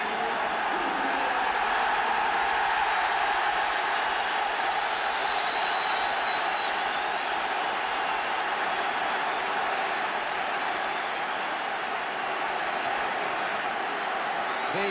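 Capacity football crowd of 52,500 at Maine Road for the 1977 FA Cup semi-final between Everton and Liverpool roars and cheers steadily as the players come out in pouring rain, a dense distant wash of noise throughout.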